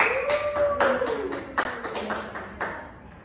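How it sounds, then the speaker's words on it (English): Brief applause for a presenter at a micro-teaching session on office communication: a small group claps in a quick run of sharp taps that fades out over a few seconds, with a tonal sound sliding underneath early on. "give applause for Acha"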